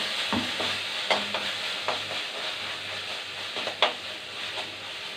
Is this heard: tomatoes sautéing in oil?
yes